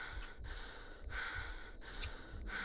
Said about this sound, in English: the breathing noise is getting really irritating